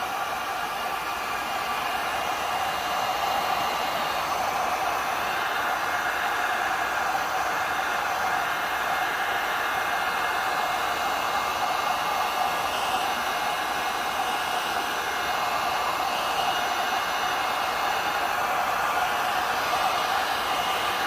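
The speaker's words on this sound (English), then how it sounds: "I'm going to go low on the heat, but highish on the fan." Heat gun set to low heat and a fairly high fan blows steadily over an alcohol ink tumbler, a constant airy roar with no breaks and no talk.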